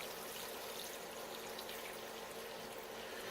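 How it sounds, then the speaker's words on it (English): Water pours continuously into a pot of chilies, a steady, even rushing splash close by with no talking. "we're going to cover this just up to the level of the chilies with water"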